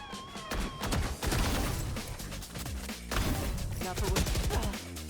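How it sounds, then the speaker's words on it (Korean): Gunshots in the tactical shooter Valorant: rapid, sharp, close reports in quick bursts and single shots, layered over busy game sound effects. "방금 나 헤드샷 쐈는데"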